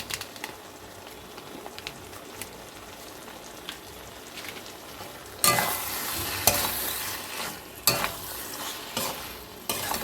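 Boiled egg tarka with tarka masala frying in a pan, a soft sizzle that turns louder when vigorous stirring begins halfway, with repeated sharp scrapes of the spoon against the pan.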